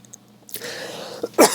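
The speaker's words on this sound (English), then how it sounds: "here comes the coughing" A brief, close cough or throat-clear, faint at first and then ending in one sharper burst near the end.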